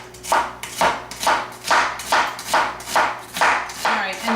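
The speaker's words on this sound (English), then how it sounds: "we also need to thinly slice this onion" A knife slices thinly through an onion on a cutting board, about nine crisp, evenly spaced strokes, close and clear with no talk.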